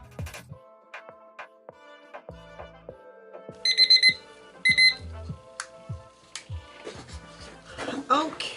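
A kitchen timer rings in two bright beeping bursts after five minutes of mixing resin for a tray, set among clinks and handling noises at a work table.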